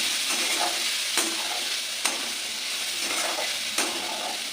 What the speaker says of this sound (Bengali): একটু কমিয়ে দিয়ে দিয়ে ভাজি